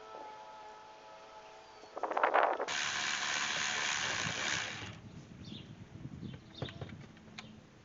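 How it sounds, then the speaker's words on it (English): A ratchet clicks rapidly and loudly up close while loosening valve cover bolts on a Chevy Silverado engine, followed by a sustained metallic rasp and scattered softer tool clinks. "Here I'm just loosening each of the 4 valve cover gasket bolts by hand first"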